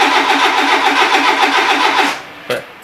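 A 1982 Renault Trafic van engine, its ignition timing being tuned for E85 fuel, cranks loudly and rhythmically for about two seconds, then dies off, followed by one short thump.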